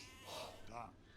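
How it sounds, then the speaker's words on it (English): Sheep bleat in a medieval strategy game during a tournament match, with two short bleats over a commentator's ongoing speech. "Will these sheep be found?"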